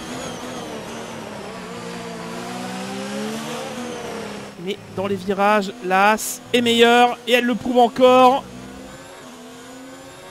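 A Mercedes-engined Formula 1 race car in the F1 2019 video game screams loudly, its engine whine rising and dropping through gear changes, with someone commentating in French over it.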